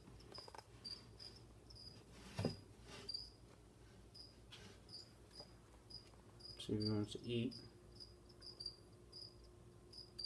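Feeder crickets chirp in a repeated high, steady pattern inside a bearded dragon's enclosure, with occasional soft scuffling and a brief voice speaking nearby.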